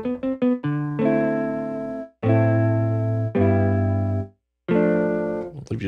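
Mellotron guitar sample played on a Nord Electro 6D keyboard, with a slightly gritty, fuzzy edge. A few quick plucked notes lead into sustained chords and held low notes, loud and close, with short gaps between phrases.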